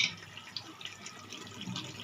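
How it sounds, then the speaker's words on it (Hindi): Water poured into a cooking pot of spiced chickpeas for chana pulao, a short close splashing pour into the pot. "अब मैं इसमें पानी डालूँगी।"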